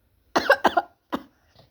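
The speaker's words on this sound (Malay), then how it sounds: "Kenapa batuk pula ni?" A character in a Roblox game coughs in three quick bursts: two close together, then one after a short pause. A faint trailing sound follows, with no talk over it.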